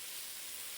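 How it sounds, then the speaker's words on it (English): Ground beef sizzles in a pan while cooking for chili, a short, steady, soft hiss of frying with no voices over it. "Some sizzle action going on."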